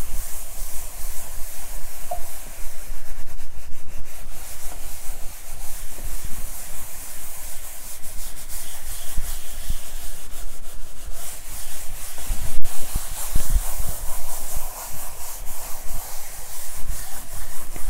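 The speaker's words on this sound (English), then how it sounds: "I'm just going to rub it a little bit more to loosen up that baby powder." Baby powder being rubbed off the surface of a painting, a close, continuous scrubbing hiss with steady strokes and occasional soft knocks, no talking.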